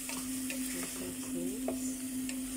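Food being stirred in a frying pan while mung beans with shrimp are cooked, a light scraping and clinking over a steady close sizzle, with no talking.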